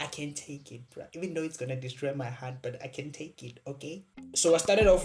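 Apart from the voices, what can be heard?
No everyday noises stand out.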